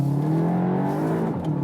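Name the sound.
VW Arteon R engine accelerating out of hairpin in first gear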